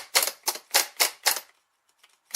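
Faulty starter from a 2002 Chevy Malibu clicking instead of spinning: five sharp, evenly spaced clicks close by, then a pause with faint ticks and one more click.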